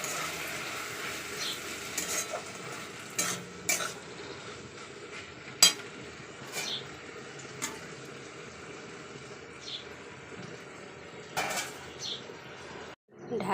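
Okra frying in a pan while being stirred: faint sizzling runs throughout, broken by sparse, quiet clinks and scrapes of a utensil against the pan.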